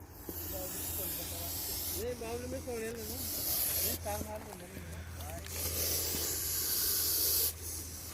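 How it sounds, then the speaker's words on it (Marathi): A snake gives loud, breathy hisses in repeated bursts, each cut off sharply, while a person talks nearby. "हा आशिया खंडातला सर्वात विषारी साप. बघू शकता तुम्ही याची आवाज."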